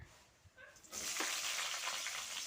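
Mustard seeds and onion drop into hot oil for a Sri Lankan style beef kaliya curry and burst into a loud, steady sizzle after a brief quiet moment, close and hissing without a break.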